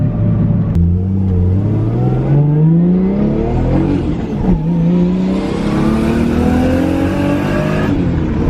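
A Toyota Supra accelerates hard from inside the car, its engine note climbing steadily through the gears with a brief dip at a shift, loud and continuous with no talk.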